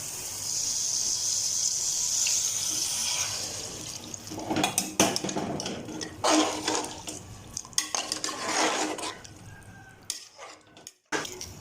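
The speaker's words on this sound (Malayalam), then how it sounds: "നമുക്കിനി ആവശ്യത്തിന് വെള്ളം ഒഴിച്ച് കൊടുക്കാം." Water is added to a pot of chicken curry in a home kitchen, with liquid splashing and pouring sounds mixed with pot and utensil clatter, fairly close and unaccompanied by talk.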